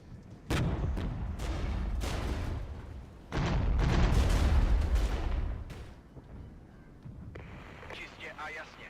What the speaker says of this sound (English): The enemy does seem to have very good senses about where to strike with their artillery